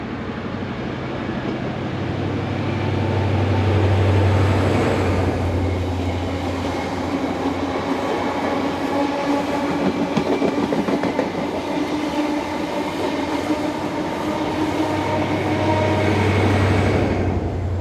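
Class 43 power car 43094 hauls the 07:59 departure for London past Sloper's siding, its diesel engine droning loud and steady while wheels click over rail joints throughout, with no voices.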